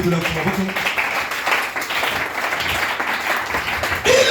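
A church congregation claps in praise of the Lord, a dense continuous applause heard close and loud, with voices calling out over it throughout.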